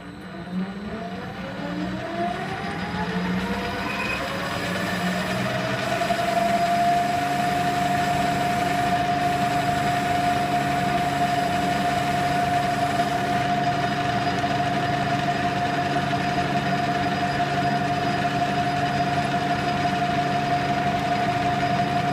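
A metal lathe runs steadily while it cuts a taper on a Troy-Bilt rototiller shaft, making a loud, continuous motor drone with a sustained tonal whine that rises and then holds.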